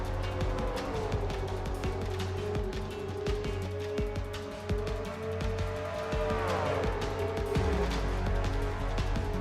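Several race cars in a racing video game surge away at the green flag of a season finale, a dense, continuous engine roar with rising and falling pitches as the pack accelerates.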